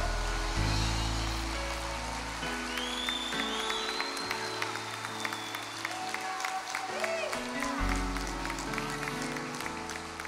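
A church congregation claps together, a dense continuous wash of applause with crowd noise, while music plays and a voice speaks over it.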